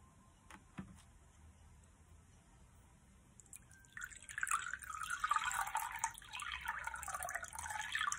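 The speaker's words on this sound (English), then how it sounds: "I'm going to get you some water." Water poured from a container into a glass, a few faint drips first, then a steady splashing stream that grows fuller and continues to the end, close by.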